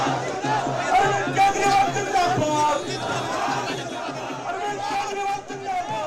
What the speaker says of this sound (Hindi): यहाँ पर समर्थन में ये नारेबाजी हो रही है।